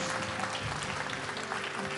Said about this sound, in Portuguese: Você pode aplaudir bem forte o Senhor aí.